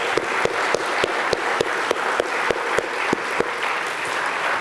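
Applause for the organizing office staff at a university opening ceremony, a steady wash of clapping from a crowd, with a few sharp, louder claps standing out at a regular pace, no talking.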